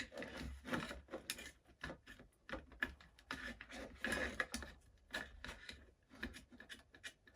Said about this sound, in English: Scissors are so dull.